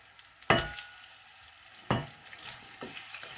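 Onions and meat drop into hot oil in a pan and start frying, with sharp sizzling bursts on each addition that die down to a soft crackle, close by and without speech.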